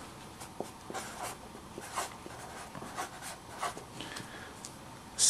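Pen writing down a calculation result on paper, soft scratchy strokes in short irregular bursts, quiet and close with no talk.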